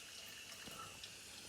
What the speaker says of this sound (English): Open it up slowly as you just let more water through, and just leave that running for a few minutes